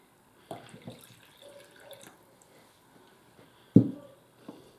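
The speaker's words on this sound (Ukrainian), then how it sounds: "І добавлю сюди водички." Water poured into a pot of stuffed peppers with tomato, carrot and sour cream, short soft splashes and trickles, then one louder splash near the end, with quiet gaps in between.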